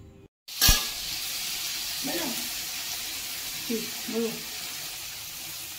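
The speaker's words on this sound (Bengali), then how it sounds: "এই যে আমাদের এখন ফুলকপি, আলু, মটরশুঁটি ভাজা হচ্ছে।" Cauliflower, potato and peas frying in a pan give a steady broadband sizzle after a sharp clatter at the start, close and continuous, with brief bursts of a voice speaking over it.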